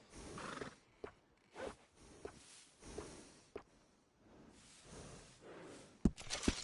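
A horse in Red Dead Redemption 2 neighs and snorts in several separate bursts with short pauses between, fairly close, with a sharp click near the end.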